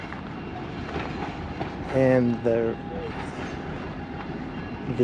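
A Durango and Silverton diesel train rumbles into town with a steady low roar and horn-like tones sounding twice, a voice speaking briefly over the noise.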